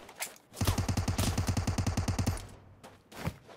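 AK rifle fire in PUBG Mobile, a sustained burst of roughly twenty rapid automatic shots lasting nearly two seconds, with a couple of single shots before and after.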